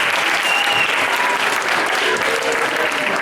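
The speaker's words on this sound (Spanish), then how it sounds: "Muy bien, un aplauso." Applause from a school audience at a 5th and 6th grade primary debate, dense and steady throughout, filling the room without pause.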